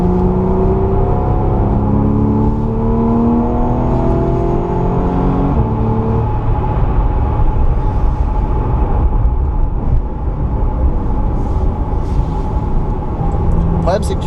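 A race car engine at Le Mans drones loudly and continuously, its pitch climbing in stepped gear-like rises under acceleration, with voices talking over the steady roar throughout.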